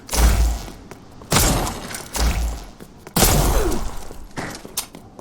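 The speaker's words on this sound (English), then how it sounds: "Load your handgun with 2 shots filled with a special toxin" Four loud, close handgun shots loaded with GL7 toxin in the video game Resident Evil Re:Verse, each a sharp heavy blast with a short ringing tail, spaced about a second apart.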